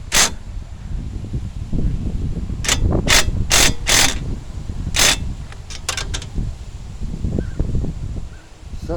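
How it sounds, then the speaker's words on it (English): Ratchet wrench clicking in several quick bursts while loosening the brake caliper bolts on a 2003 Ford Mustang 3.8, close and fairly loud, with low garage rumble and mechanical handling noise between the bursts. "now we're going to take the brake caliper bolts loose"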